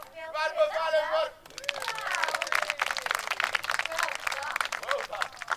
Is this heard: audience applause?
yes